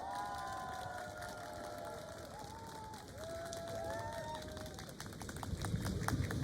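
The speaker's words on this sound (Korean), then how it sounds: "동지에게 뜨거운 박수 부탁드리겠습니다" A crowd applauds at an outdoor election campaign launch rally in Nohyeong-dong, Jeju, where a National Assembly candidate is on stage. Sustained clapping comes through with whistles and cheering over it, swelling toward the end.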